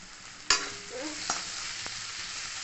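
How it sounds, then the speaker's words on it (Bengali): Poppy seeds frying in oil in a pan as they are stirred, for a Bengali peyaj posto dish: a faint low sizzle broken by a few sharp scrapes and clinks of the spoon. "5-7 মিনিট সময় ধরে আমি এটা ভাজা ভাজা করে নিচ্ছি।"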